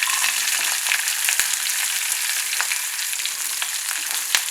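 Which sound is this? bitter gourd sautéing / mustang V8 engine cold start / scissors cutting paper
bitter gourd sautéing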